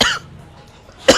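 Two short, loud coughs close up, separated by about a second of quiet.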